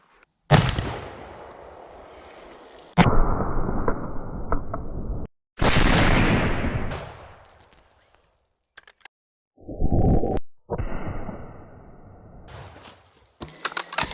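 An 1887 Winchester lever-action rifle in 70-150 WCF loaded with black powder fires several loud, booming shots, each a sharp blast trailing into a long rumbling decay, with short quiet gaps between them.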